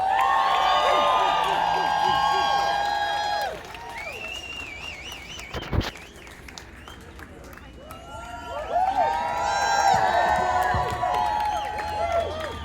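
A large outdoor crowd at an animal liberation march in New York City cheers and shouts loudly in two swelling bursts, with a quieter lull between them and a sharp clap or thump near the middle.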